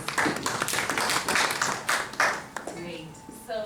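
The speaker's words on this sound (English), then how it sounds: "A round of applause for her, please." Audience applause at an African community gathering: dense, steady clapping from a crowd for about two and a half seconds that then thins out as a voice begins speaking.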